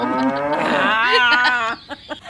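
A voice imitates a cow, drawing out a long, loud, wavering moo that dominates the clip, then trails off into a few soft breaths.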